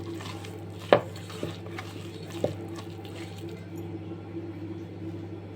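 Cut green jackfruit being mixed with curd and spices in a bowl, with three sharp utensil clinks against the bowl spaced over a few seconds and soft, quiet mixing noise between them.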